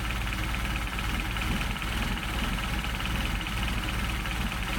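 A Mercedes 190SL engine with Solex carburetors runs steadily at low RPM, a dense, even rumble with a faint rhythmic pulse, close and constant with no voices.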